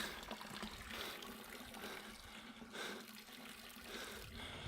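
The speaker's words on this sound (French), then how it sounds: "Donc c'est cool, il y a une fontaine." A mountain fountain beside a refuge on Monte Barone trickles steadily in soft, continuous babbling water noise, faint and without voices.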